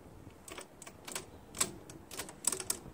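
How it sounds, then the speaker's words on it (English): Gear lever on an MTD Yard Machines 20 HP Briggs & Stratton Intek CVT lawn tractor clicking through its shift positions, a series of faint, crisp clicks at close range against a quiet background. "Very easy to shift. Very crisp clicks."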